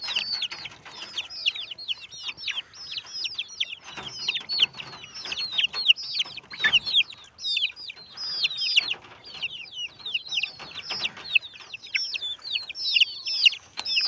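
Roosters and hens cluck and call in a busy, overlapping chorus, with short sharp calls repeating steadily and fairly close.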